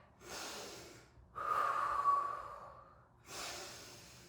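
Heavy, exaggerated breaths during a prenatal-friendly Pilates mat exercise: three loud, close exhalations, the middle one longest, with brief pauses of silence between them.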